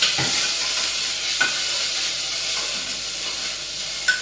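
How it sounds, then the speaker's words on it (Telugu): Garlic cloves, chopped onion and curry leaves fry together in a hot pan for fenugreek dal, giving a loud, steady sizzle with a few brief stirring scrapes and no talking. "ఇందులో ఇప్పుడు మనము ఇదిగోండి వెల్లుల్లి రెబ్బలు, కట్ చేసుకున్న ఆనియను, కరివేపాకు అన్నీ ఒకేసారి వేసేస్తాము"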